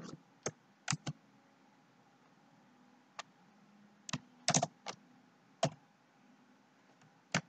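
Computer keyboard typing while writing web development code, sparse sharp key clicks, some single and some in quick clusters, close and distinct over a faint steady hum, with no talk.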